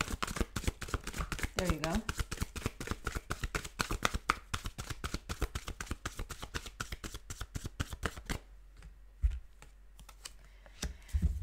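Tarot cards shuffled in rapid, steady riffling bursts for about eight seconds, close and loud, then a few scattered card taps; a voice speaks briefly near the end.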